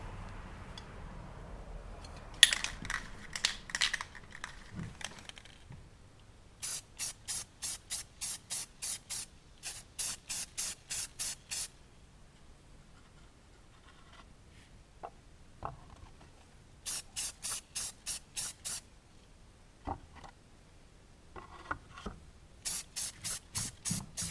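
Aerosol spray paint hisses in repeated short bursts while coating an air-dry clay pot blue, several quick pulses grouped in sets with quiet gaps between, close and fairly loud.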